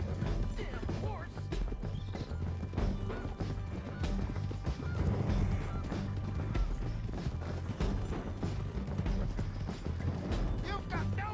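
In Red Dead Redemption 2, hooves clatter in a busy, uneven rhythm amid mechanical clanks and rattling, with a horse whinnying and voices mixed in.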